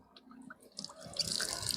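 Water poured into a large glass jar, a soft trickle that swells into a steady, splashing pour close by.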